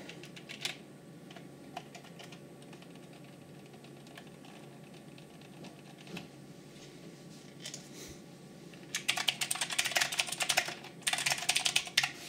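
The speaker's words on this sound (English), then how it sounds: "That is a quite loud blue type switch." Loud clacky blue-type switches on an Ajazz First Blood gaming mechanical keyboard, typed in steady bursts that grow denser and louder toward the end, close up with no voices.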